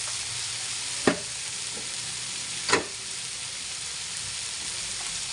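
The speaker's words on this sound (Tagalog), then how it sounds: "Igigisa natin guys." Ingredients for tuna miso sinigang sauté in a pan with a steady, soft sizzle and hiss, broken by two sharp stirring clacks of a utensil against the pan.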